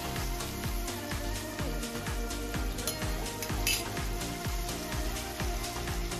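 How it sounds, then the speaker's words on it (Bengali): Meat with onion and tomato paste is stirred with a spatula in hot oil over a medium flame: a steady, faint sizzle runs throughout, with rhythmic scraping strokes of the spatula repeating about twice per second. "এবার তারপরে এটাকে ভালো করে একটুখানি নাড়িয়ে নেবো খুন্তি দিয়ে।"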